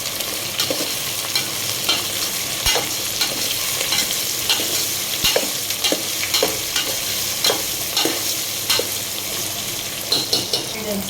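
Ginger-garlic paste sizzles steadily in a frying pan for sambhar, with frequent spatula strokes scraping and tapping the pan. The bright, busy sizzle runs close and continuous for the whole stretch.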